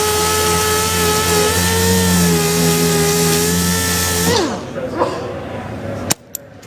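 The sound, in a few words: DA sander finishing spot welds on car panel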